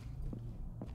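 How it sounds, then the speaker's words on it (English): Footsteps in the Ready or Not tactical shooter game: two soft, muffled steps about half a second apart, faint against a low steady hum. "I hear footsteps."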